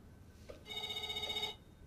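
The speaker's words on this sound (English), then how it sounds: "That's a phone ringing." Telephone ringing in the video game Else Heart.Break(), a single steady electronic ring burst lasting under a second, faint and alone with no talk.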